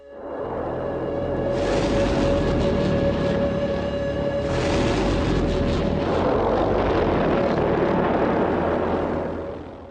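A V-1 flying bomb, the wartime Doodlebug, drones overhead with a loud, steady buzzing engine tone and heavy roar that swells twice, rumbling continuously throughout.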